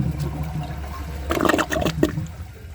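A Project Source Pro dual flush toilet from 2023 flushes with a sudden rushing surge of water that gurgles and tapers off, heard close and alone after a quiet hum.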